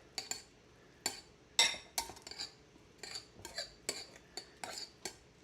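A utensil stirring crab mushroom stuffing in a bowl, giving a dozen or so sharp clinks and scrapes at an uneven rhythm, close and fairly quiet, with no talking.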